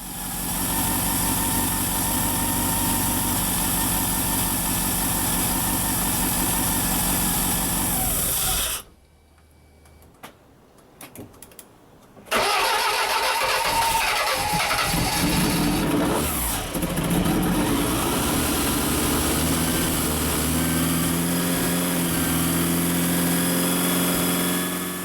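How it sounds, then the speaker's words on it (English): A rebuilt Lancia Delta Integrale engine runs loud and steady, settling into an even idle with rev changes, then cuts out for a few seconds of near quiet before firing up again and running strongly to the end. "I'm just very pleased that the engine is running well"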